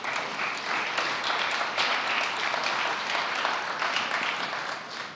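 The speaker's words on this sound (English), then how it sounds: "Let's give another round of applause." An audience at a community summit applauds steadily with dense, continuous clapping that stays even throughout and tapers slightly at the end.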